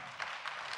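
Brief burst of audience applause at a Catholic conference, dense even clapping with no voices over it.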